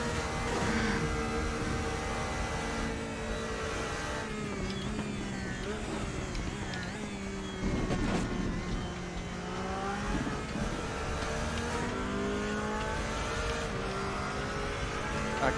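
A race car engine in a Nordschleife racing game drones at high, steady revs, pinned against the rev limiter with a sustained buzzing whine, while a voice talks over it throughout.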